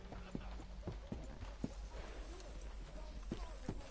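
Hooves clip-clop in a video game, a horse walking with irregular, moderately loud hoof strikes over a low rumbling background.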